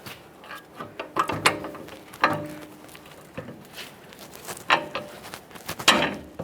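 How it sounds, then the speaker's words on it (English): Pry bar levering down the front ball joint of a 2015-2020 Ford F-150 against the strut coil spring: irregular metallic clanks, scrapes and ratcheting knocks, close and moderately loud, with no talking. "So I'm just going to use a pry bar up inside this area."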